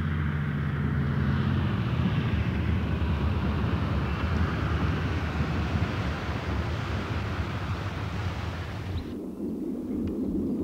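Catalina seaplane setting down on the Nile near a Shilluk tribal village, a steady broad roar of engine and rushing water for about nine seconds that drops away sharply to a quieter low rumble near the end.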